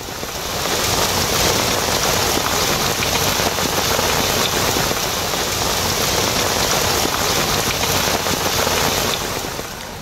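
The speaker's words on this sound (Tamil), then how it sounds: "மாவட்டத்தின் பல்வேறு பகுதிகளிலும் பரவலாக மழை பெய்து வருகிறது" Heavy rain falls in a loud, dense, unbroken hiss that fades in at the start and holds steady for the whole stretch, with no voices over it.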